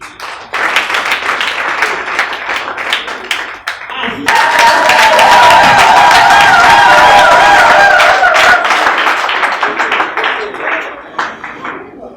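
A large audience at a women's month closing ceremony breaks into loud, sustained clapping that swells and holds for several seconds before tapering off, with chatter and voices around it.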